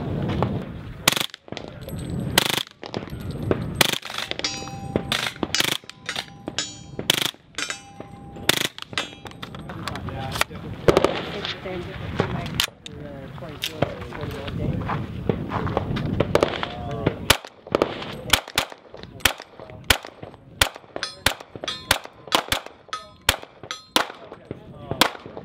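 KRISS Vector Gen 2 submachine gun in .45 firing at steel targets at a shooting range, sharp rapid shots with ringing metallic clangs from hits in quick strings, and someone talking between and over them.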